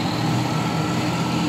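An F-real milkshake machine blending a milkshake in an Asda store gives a steady, loud, low mechanical whir and rumble, continuous throughout with no talking.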